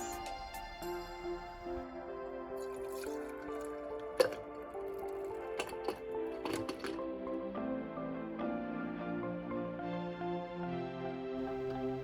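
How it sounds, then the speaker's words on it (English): Foamy shaken espresso with brown sugar and cinnamon is poured into a glass, giving soft liquid trickles, drips and faint ticks heard close and quiet, with no talking. "When it's nice and foamy, you can pour it into your favorite glass."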